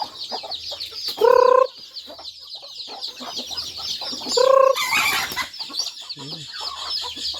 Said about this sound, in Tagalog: Magpapakain tayo ng mga manok.